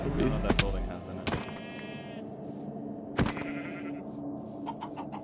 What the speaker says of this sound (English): I got us all the sheep.